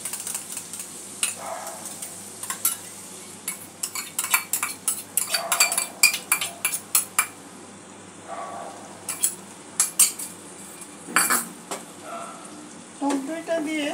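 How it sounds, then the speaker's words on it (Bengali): A spoon taps and scrapes briskly against a bowl while sour yogurt is whisked for a katla fish curry, irregular clinks and clatters over a soft background hum, with brief talk in between. "এখানে আমি 2 টেবিল স্পুন টক দই নিয়েছি, টক দইটা দিয়ে দেব। একটু ফেটিয়ে নিয়ে দিচ্ছি।"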